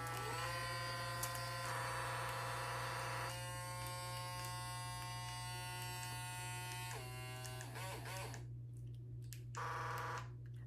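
An electric toothbrush from a two-in-one brush and water flosser runs steadily, its buzzing tone shifting in pitch and pulse pattern as it cycles through modes, ending in short stuttering bursts.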